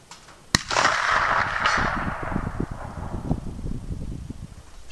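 A .45-70 rifle with a scope fires a Hornady 300 grain hollow point at a 250 yard target, one sharp close crack followed by a long rolling echo and outdoor wind rumble, with no speech.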